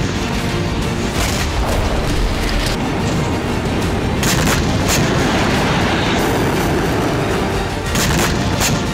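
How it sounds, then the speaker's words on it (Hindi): Bunker buster bombs from Israeli air strikes exploding in Gaza: a loud, continuous barrage of heavy booms and rumbling blasts with sharp cracks scattered throughout, dense and unbroken. "हमास की सुरंगें और बंकर नष्ट करने के लिए इजरायली वायुसेना ने बंकर बस्टर बम से हमला किया"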